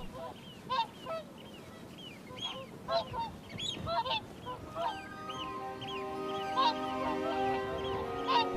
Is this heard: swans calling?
yes